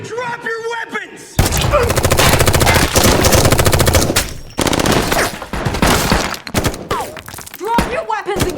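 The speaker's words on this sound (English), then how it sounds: "a fierce gunfight breaks out between Russo's team and Homeland Security" Loud close bursts of automatic gunfire erupt in a warehouse gunfight from a movie, with sustained rattling volleys, brief gaps, thuds and shouted voices between the shots.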